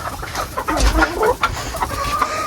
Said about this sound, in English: Let me get the new chickens out.